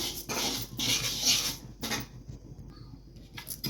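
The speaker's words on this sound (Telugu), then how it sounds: "ఇలా మాడకుండా తిప్పుతూ ఉండాలండి గోల్డెన్ బ్రౌన్ కలర్ రావాలి" Moong dal dry-roasting in a pan while being stirred, dry grains rasping and rattling against the metal in bursts, close and fairly loud, with quieter pauses between strokes.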